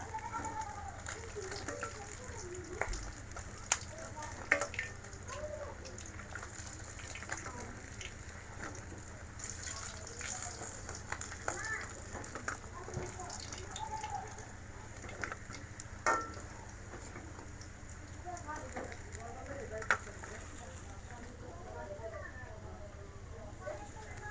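Bitter gourd (karela) frying in a pan in a home kitchen, a soft steady sizzle with faint crackles and occasional stirring scrapes, fairly quiet throughout, with no one talking over it.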